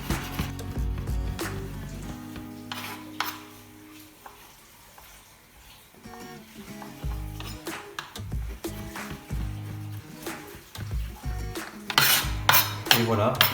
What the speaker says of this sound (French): on va pouvoir découper nos bâtonnets et ensuite faire des petits cubes